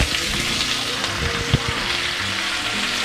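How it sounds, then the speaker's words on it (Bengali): Vegetables and soybeans fry in a pan with a steady, close, loud sizzle, broken by a brief knock as the mixture is stirred. "সবজিগুলো তো মোটামুটি ভাজা হয়ে গেছে, এবার সয়াবিনগুলো অ্যাড করে দিয়ে আবার ভালো করে নাড়বো।"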